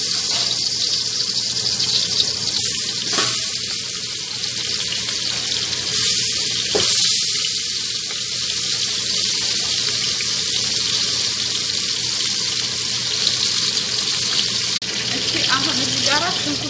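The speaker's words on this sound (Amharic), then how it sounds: "እዚህ ጋራ ዘይት ጨምራለሁ። ከዛ ስጋውን ጨምራለሁ።" Meat sizzling in hot oil in a cooking pot gives a steady, loud hiss and crackle that runs unbroken throughout, with a few brief clatters of utensils.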